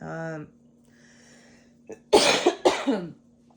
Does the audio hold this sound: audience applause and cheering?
no